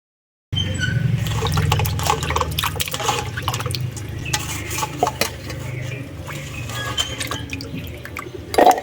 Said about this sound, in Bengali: এটা এবার একটা পাত্রে তুলে নিয়ে এটা জল দিয়ে ভালো করে ধুয়ে নেব